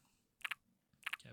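Jump sound effects from MoonVania, a Unity metroidvania game: two short, crisp double-click bursts about half a second apart, quiet and dry with no talking.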